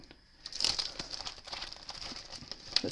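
Close crinkling and crackling of a thin sheet of adhesive film with a white backing being handled, a busy scatter of small rustles with a few sharper snaps.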